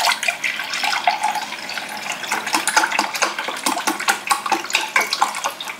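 Rice rinsed in a mesh bag under a running tap, a steady close splashing rush of water with small irregular spatters, no talking.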